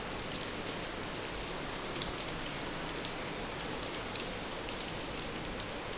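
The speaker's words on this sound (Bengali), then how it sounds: "দেখো কত বৃষ্টি হচ্ছে বাইরে" Heavy rain pouring down outside, a continuous dense hiss of drops with a few faint louder ticks, steady and unbroken throughout with no voices.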